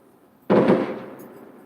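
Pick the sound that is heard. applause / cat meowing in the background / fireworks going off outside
fireworks going off outside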